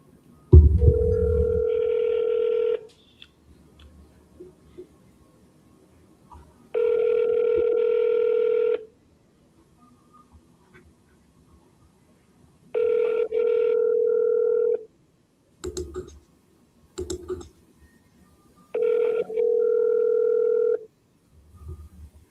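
Outgoing telephone call ringing back, four long evenly spaced ring tones separated by silence, clear and steady, with a couple of brief clicks between rings before the line connects.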